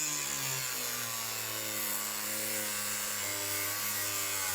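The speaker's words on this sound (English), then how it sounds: "Up next, we have a Harbor Freight angle grinder." A Harbor Freight angle grinder cutting through a thick door, a steady whining drone with shifting pitch, moderately loud and continuous.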